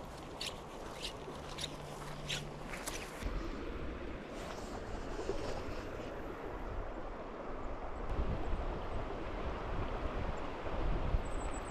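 A small creek in Missouri rushes steadily nearby, a broad continuous wash of flowing water mixed with gusty wind buffeting the microphone, with light rustling early on.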